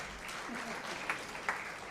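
Audience applause at a Tamil speech event, a brief dense patter of clapping with a couple of sharper claps standing out.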